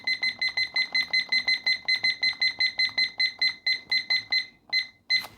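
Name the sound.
timer beeping as it is set and started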